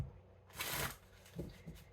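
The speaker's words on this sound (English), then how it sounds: "I'm in love with how the transparent tarot shuffles" Transparent tarot cards are shuffled in a short riffle, a soft papery burst followed by a few faint taps and slides of the deck, quiet and close.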